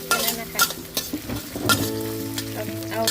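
Bean sprouts and spring onions are stir-fried in a hot pan with strong sizzling and repeated sharp scrapes and clanks of a spatula against the pan, close up, with no talking.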